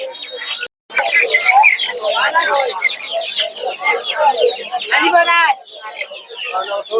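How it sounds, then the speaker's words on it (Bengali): Native chickens cluck and chatter at a busy rural poultry market, a dense steady stream of bird calls with people talking nearby. "দেখতে পাচ্ছি প্রচুর পরিমাণ দেশি মুরগি করছে"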